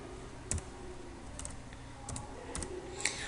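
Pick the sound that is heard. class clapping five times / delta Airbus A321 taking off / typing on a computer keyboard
typing on a computer keyboard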